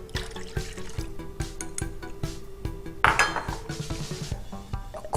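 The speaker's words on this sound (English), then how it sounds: "I'm going to add a 1/2 cup of ice water." Ice water is poured into a large measuring cup, with repeated clinks and knocks of ice cubes against the cup and a brief splashing pour midway, close and fairly quiet.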